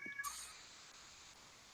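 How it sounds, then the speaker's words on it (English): A pet cat meows once near the end, a short, fairly loud call following a brief higher-pitched chirp early on, over a quiet background. "That's my cat meowing."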